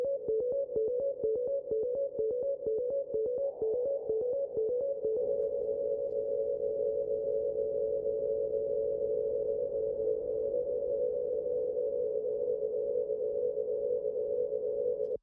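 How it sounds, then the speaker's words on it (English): A plate reverb in the Serum synth turns a sound into a sustained, droning tone: rapid repeated pulses at first, then a steady, loud hum that holds to the end with no talking. "You notice how that makes like a drone sound?"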